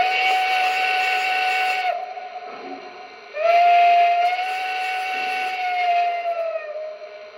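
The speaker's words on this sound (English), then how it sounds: "So let's see the second whistle." A Lionel Legacy Blue Comet Camelback model train steam whistle sounds in two long, wavering blasts separated by a short gap, the second starting louder and trailing off with hiss.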